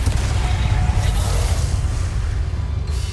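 A booming fiery spell explosion in the Hogwarts Legacy video game, a loud, heavy low rumble with a rushing burst of noise that holds and slowly fades over a few seconds.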